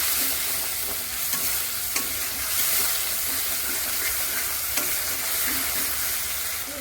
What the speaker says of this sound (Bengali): এবার দিয়ে দেবো কাজু বাদাম বাটা, ভালো করে মিশিয়ে দেবো।